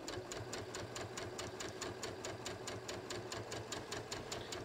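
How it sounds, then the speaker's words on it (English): A sewing machine straight stitches through the knit fabric along a top's neckline, a steady fast rhythmic needle clatter running evenly and close up throughout with a low motor hum beneath. "I'm just going to straight stitch along here just through the fabric of the neckline"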